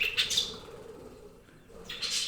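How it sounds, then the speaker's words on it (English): Bright chirps from a pet yellow parakeet, a short burst at the start and another near the end, fairly close and alone without talk. "That's my yellow parakeet, Boo-Boo."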